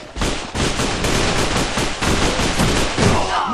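Rapid pistol gunshots in the shooter game A.V.A, a loud, close string of sharp reports fired in quick succession with little pause.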